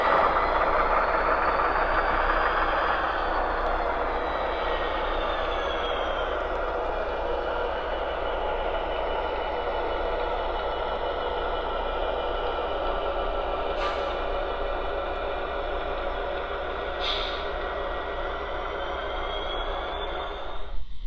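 Steady rumbling chuff of a model locomotive exhaust, continuous and moderately loud, with a few brief high squeals near the end.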